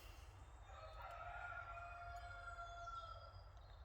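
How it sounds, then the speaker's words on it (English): Birdsong in a woodland, with rooster-like crowing and several tonal calls carrying steadily over a low rumble of background wind or distant noise. "And the birds are joining in as well."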